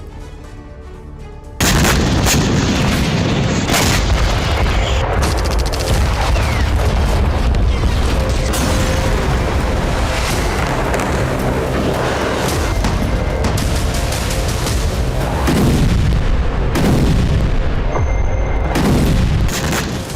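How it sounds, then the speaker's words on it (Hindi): C-RAM air defense system firing during a missile attack on the US Victory Base in Baghdad: after a quieter opening, a loud, continuous roar of rapid gunfire and booms runs for nearly the whole stretch, with distant explosions mixed in. "ये बगदाद के यूएस विक्ट्री बेस पर मिसाइल हमले की तस्वीरें हैं। जिसे अमेरिका के सी-रैम एयर डिफेंस सिस्टम ने नाकाम कर दिया।"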